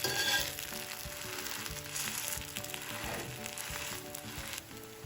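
A mung bean crepe sizzles steadily in a pan after being flipped, a continuous close frying hiss with faint crackles and no voices.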